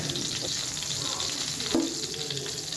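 Mustard seeds spluttering in hot oil for a cucumber chutney tempering, a dense continuous crackling sizzle with a few sharper pops, close and steady throughout.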